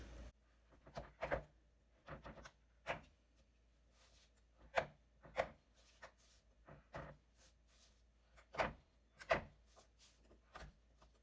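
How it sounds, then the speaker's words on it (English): A knife cuts a chocolate bar into squares on a board, giving quiet, irregular crunching chops and scrapes spaced a second or so apart, close and soft. "Just going to cut my chocolate into squares"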